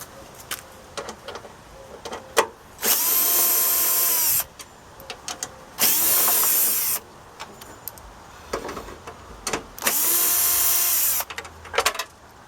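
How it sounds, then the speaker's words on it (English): A cordless power drill backs out three 8 mm bolts on a 2005 Dodge Grand Caravan headlight, giving three loud, close whirring runs of about two seconds each with clicks and handling noises between them. "the first thing we're going to be doing is removing these three 8mm bolts."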